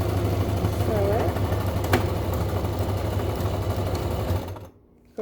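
Home sewing machine stitching a pleated 100% cotton face mask with elastic, a steady fast mechanical whirring hum running close and loud, then stopping abruptly near the end.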